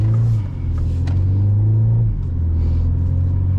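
A 2025 Mini Cooper JCW hot hatch with a 7-speed DCT drives off, its engine a close, steady mid-low drone that dips briefly and then settles at a new pitch as it gears up, with no talk over it.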